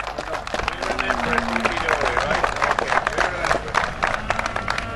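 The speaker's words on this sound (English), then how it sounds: "Round of applause there for David Pearson." A show-ring crowd at the Tullamore interbreed presentations applauds the Belgian Blue champion breeder, with steady clapping and cheering around a loud announcer's voice.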